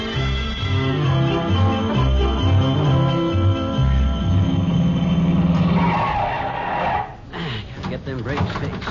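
In an old radio comedy sound effect, a car skids with a long screech of braking tires that builds and then cuts off in a jolt, with voices talking around it.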